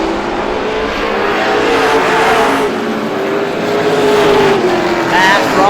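Stock cars race at Star Speedway during a GSPSS 100 event, a loud continuous roar of several engines with rising and falling pitch as they pass, heard from the stands.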